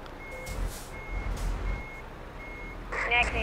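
A truck's reversing alarm in Euro Truck Simulator 2 beeps steadily in evenly spaced tones over a low engine rumble while parking, with a voice briefly heard at the end.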